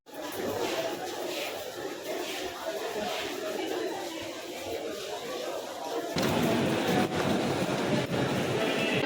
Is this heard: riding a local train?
yes